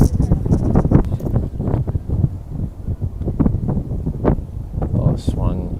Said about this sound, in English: As you can probably tell, it's quite windy out here.